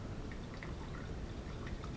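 Hot off-boiled water poured into a jar when making mead, a faint, quiet trickling and dripping pour with no talk over it.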